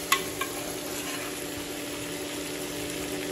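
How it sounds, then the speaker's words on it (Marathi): Ginger garlic paste sizzling in a pan with half-cooked tomato and onion for chole masala, a steady soft frying hiss with a couple of small stirring clinks near the start. "तर आता याच्यात मी टाकते अद्रक लसूणची पेस्ट"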